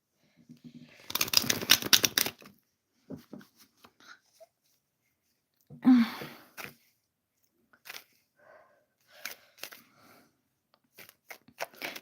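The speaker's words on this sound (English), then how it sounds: "So I'm shuffling the cards for Maria" Bursts of riffling and soft papery flicks, close and fairly quiet, as tarot cards are shuffled in short bouts separated by pauses.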